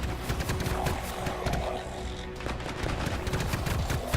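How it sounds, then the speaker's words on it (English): Ice Storm ability in the video game Anthem, a dense crackling barrage of rapid icy impacts and bursts building over a rumbling low end, loud and continuous. "Ice Storm creates a field of ice that deals damage, rapidly building to a final explosion of frost."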